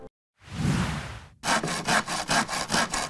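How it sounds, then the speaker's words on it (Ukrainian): A handsaw cuts through a wooden rail for a window-frame repair, a long first stroke followed by a steady run of quick rasping back-and-forth strokes, close and clear. "Житель Турбівської громади ріже дерев'яну рейку."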